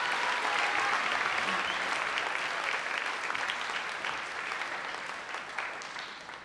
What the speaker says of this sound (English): Please give another round of applause to Kealo Ali'i, our performers, and Kumu who helped to make this day possible